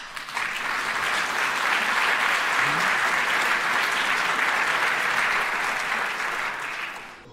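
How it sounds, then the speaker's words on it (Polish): Audience applause at a public meeting with Joanna and Andrzej Gwiazda in Olsztyn, March 2016: a dense, steady wash of clapping from a full room that holds for several seconds, then gradually fades out. "I tu chyba też należałyby się brawa."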